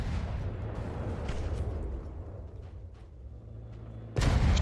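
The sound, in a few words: explosion in From the Depths video game battle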